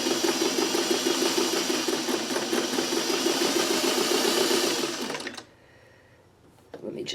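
Sewing machine running steadily for about five seconds as it stitches a skinny fabric strip set, with a shortened stitch close to the edge. It is loud and close, then stops abruptly, followed by quiet handling noise.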